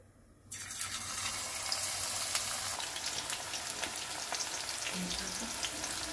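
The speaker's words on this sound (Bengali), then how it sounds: "এইভাবে সব চিকেন স্ট্রিপসগুলো আমরা ভেজে নেব উলট পালট করে" Chicken strips dropped into hot oil in a kadai, starting at once with a loud, steady crackling sizzle that continues evenly, with no talk.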